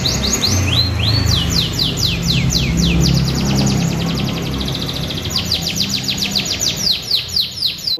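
A competition-grade F2 canary in full song, rapid rising trills and chirp runs repeated close to the microphone, loud and continuous over a faint murmur of background voices.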